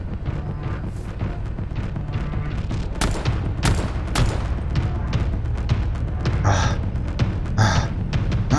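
Gunfire in a Minecraft horror game, several sharp shots and bursts over a constant rumbling background, with a pair of softer hissing blasts toward the end.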